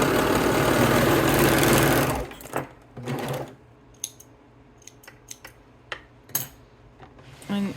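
A sewing machine runs fast and loud stitching swimsuit fabric for about two seconds, then stops, followed by a brief second burst and scattered clicks and snips in a quiet room.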